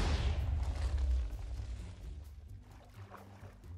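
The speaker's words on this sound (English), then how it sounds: "and then possibly the single biggest explosion so far" A huge explosion in Minecraft hardcore mode, a deep booming blast that starts loud and rolls off into a rumbling, crackling decay with scattered debris pops.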